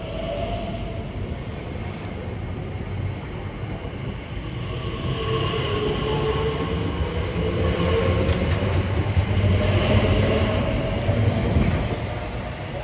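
A British Class 345 electric train rolls in with a steady rumbling hum and rising whine that swells as it nears, wheels faintly clattering on the track.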